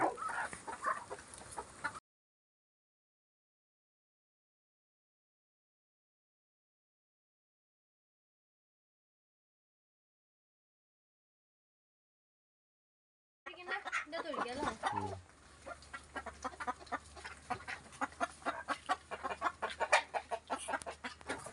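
Chickens cluck briefly, then a long silence, then more clucking mixed with a person talking nearby.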